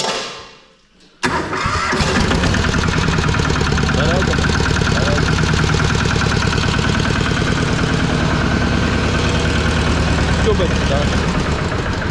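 A 12 hp Antor diesel engine, one that stalls when the clutch is pressed, clatters to life after a brief pause and then runs at a loud, steady, knocking idle close by for the rest of the clip.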